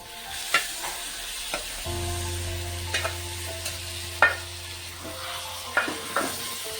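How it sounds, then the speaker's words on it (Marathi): Mutton frying in masala, a soft continuous sizzle under periodic scrapes and knocks of a spoon stirring the pan, close and fairly quiet, with a low steady hum entering partway through. "आणि छान मसाला मिक्स करून घेते त्याच्यामध्ये."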